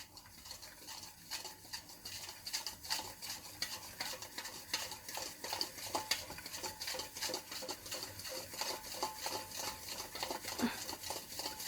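Icing sugar and butter being stirred together in a bowl for almond cream, a steady scraping, patting mix of quick strokes that runs close and continuous throughout without any talk.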